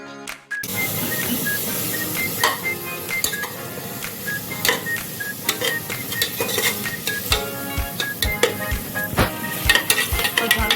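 Ground masala paste with turmeric and Agri masala is stir-fried in a pan, with a continuous sizzle and frequent scraping and clinking of a spatula against the metal.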